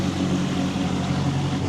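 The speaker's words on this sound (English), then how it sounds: "I can hear the hum of an engine in the background." Steady, loud engine hum at an airfield by a closed museum, a continuous low droning that stays even throughout, with no talk over it.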